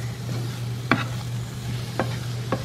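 Sweet banana and plantain fry in a pan with a steady, close sizzle. A few sharp scraping stirs cut through over a constant low hum.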